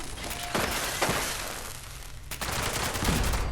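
Gunfire in Fallout 76 as mainframe cores are shot out: sharp, loud bursts of rapid shots with a brief lull in between, over a constant noisy game background and no speech.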